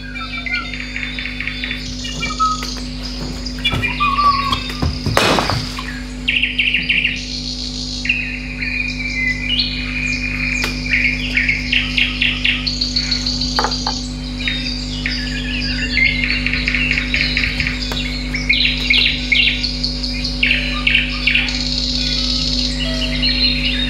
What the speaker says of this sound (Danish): Lad os nu lytte til nattergalens sang en tidlig maj morgen i Fuglsang Park på Lolland.